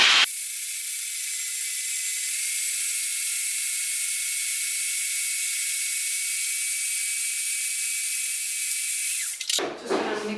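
Steady high-pitched whir of a food processor grinding nuts into a smooth nut butter, running loud and unbroken for nearly ten seconds before cutting off into brief clatter.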